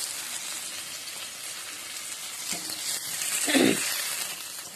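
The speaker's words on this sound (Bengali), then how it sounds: "মাছগুলো আমি একটু কাঁচা কাঁচা করে ভাজছি" Fish fry lightly in a pan with a steady, close sizzle, joined near the end by a brief louder burst of spattering; no one speaks.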